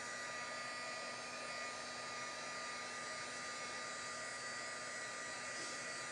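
A hair dryer blows steadily to dry wet paint, a constant whirring hum with a fixed tone, close and unbroken for several seconds with no talk.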